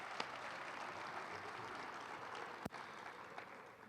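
Audience applause at a student awards show, a steady wash of clapping from a crowd with one sharp louder clap near the end.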